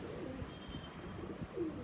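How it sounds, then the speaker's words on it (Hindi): A red-headed pigeon coos softly in a few low, throaty phrases against a noisy background, with no talking. "ये लाल सिरा कबूतर है भाई"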